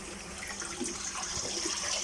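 Water from a koi pond shower pours and splashes in a steady, close hiss, running continuously alongside an air pump.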